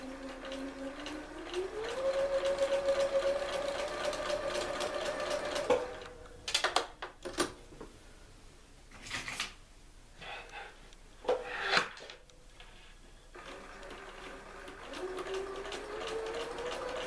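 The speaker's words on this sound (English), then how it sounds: "I'm going to sew along those lines." Domestic sewing machine stitching two diagonal lines across 1.5 inch squares on a 4.5 by 1.5 inch quilt strip, a steady motor whir with pauses and small clicks and handling noises in between.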